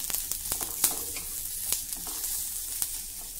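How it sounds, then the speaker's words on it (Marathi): Chopped onion roasting in a hot pan for a chutney, giving a steady close sizzle broken by crackles and light scraping stirs throughout, with no voices. "पण हा आपण थोडा भाजून घेऊ, म्हणजे चटणी 2-3 दिवस व्यवस्थित टिकेल."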